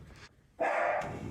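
A dog barks a couple of short, sharp yaps with a brief gap between them, fairly faint and somewhat distant, with no talking.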